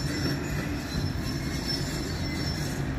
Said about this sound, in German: Wir schauen uns doch noch die Einfahrt des Regionalexpresses an.